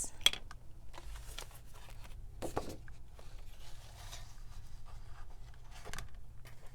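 Scissors or a blade cuts a 1-inch paper strip for a mini lapbook insert: quiet scattered snips and paper rustles, a few sharper clicks, close and faint.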